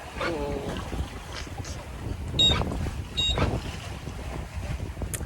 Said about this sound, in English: Got 8 knots of wind on a broad reach